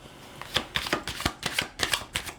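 Tarot cards shuffled and flipped close up, a rapid run of crisp riffling slaps and snaps in quick uneven bursts, with no voices.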